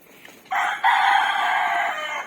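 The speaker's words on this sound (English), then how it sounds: "Yes. Cock-a-doodle-doo." A rooster crows once in a loud, sustained call that rises partway through and then holds steady before tapering off, heard alone with nothing else over it.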